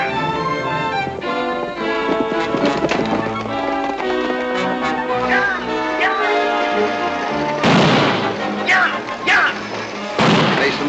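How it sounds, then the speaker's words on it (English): Gunshots in a radio western drama: a string of sharp reports bursts out amid orchestral music, with loud blasts around the last few seconds and no talk. "Mason's sixth shot."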